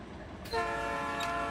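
Locomotives in Run 8 Train Simulator: after a low rumble, a loud multi-tone horn blares and holds steadily to the end over the engine's drone.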